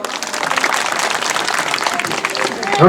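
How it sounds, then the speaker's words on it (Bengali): Applause from an audience at a political gathering, a steady wash of dense clapping filling the whole moment and swelling slightly louder toward the end, with voices mixed in. "আপনাদের জন্য একটা করতালি"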